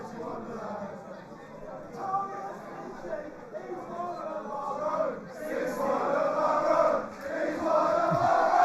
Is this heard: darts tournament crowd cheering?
yes